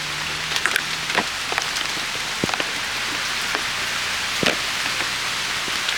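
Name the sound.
heavy rain falling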